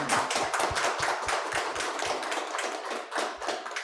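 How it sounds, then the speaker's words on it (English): An audience at an in-person and online panel conversation claps in a brisk, steady patter of many hands, with sharp close-up claps standing out, sustained throughout without any talking. "A round of applause,"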